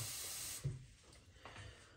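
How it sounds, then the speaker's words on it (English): Water poured into a pan of Spanish-style pepper steak, a steady broad hiss and splash that runs loud for about half a second, then dips, with a brief bump near the middle and a softer swell near the end. "So we're going to add water to it now"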